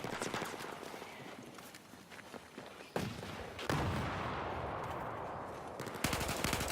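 Gunfire cracks from a distance in Battlefield 4, coming as scattered bursts and single shots at low-to-moderate loudness with no voices over it.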